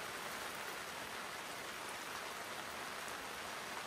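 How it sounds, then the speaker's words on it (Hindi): Steady rain falls at a campsite in Himachal during car camping with a camper van, a dense, even hiss of drops on surfaces that continues unbroken and fairly soft, with no voices. "बारिश हो रही है"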